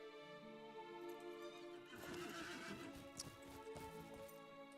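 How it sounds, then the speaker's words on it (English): A horse whinnies and its hooves clip-clop in a Middle-earth video game, the neigh rising over a sustained tonal music bed, with a rhythmic hoof patter following. "I need to get on a horse."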